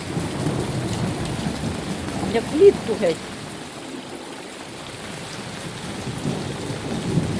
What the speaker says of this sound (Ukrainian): страшна гроза прямо.